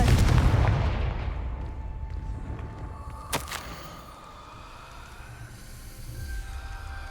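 A Confringo fire spell bursts in Hogwarts Legacy, opening with a loud rumbling blast that fades into a low roar, with a sharp crack midway and swelling game ambience near the end.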